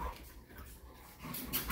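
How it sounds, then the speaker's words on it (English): A Cane Corso whimpers softly in a brief, faint whine against a noisy household background, with no one speaking. "Savannah, are you going to feed this poor dog?"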